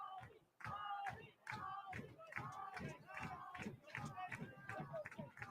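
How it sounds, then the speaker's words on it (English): Soccer crowd at an NCAA Division I men's match, Marshall versus Butler, chants the goalkeeper's name in a steady rhythmic two-beat pattern, repeated many times in a loud unified chorus. "Crowd chanting Ali Simla's name, Ali, Ali, as they say"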